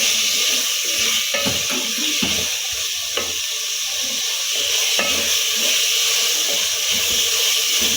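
Green beans frying in a spiced masala, a steady loud sizzle with occasional stirring scrapes and clinks of the pan throughout, without any voices.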